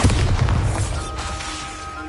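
A Bombarda blast spell in Hogwarts Legacy, a deep booming explosion that hits hard at the start and rumbles away over about two seconds, loud with no other sounds.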